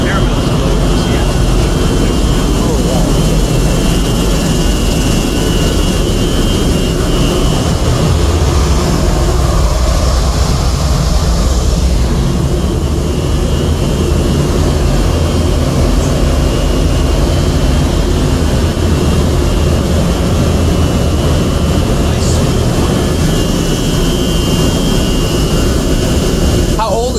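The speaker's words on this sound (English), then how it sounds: "This is roughly a 30 horsepower 3-phase motor." A roughly 30-horsepower three-phase electric motor powering a huge theatre pipe organ drones with a steady, loud, continuous roar and hum throughout, with people talking nearby.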